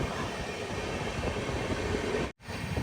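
RRTS high-speed train approaching, a steady loud rail roar and rumble with broadband rushing noise, cut by a brief dropout near the end.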